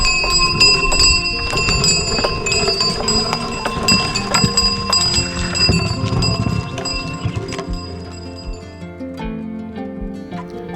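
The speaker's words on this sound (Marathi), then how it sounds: "बैलांच्या गळ्यातील घंट्यांचा सुमधुर आवाज कानावर पडला" Bells hanging from bullocks' necks in a dense forest, ringing in a continuous irregular jangle of many overlapping metallic clangs, loud and close, thinning toward the end with a few lower single strikes.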